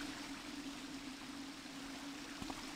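A waterfall in Thief: The Dark Project, a steady, even rush of falling water with a low hum beneath, constant throughout with no voices.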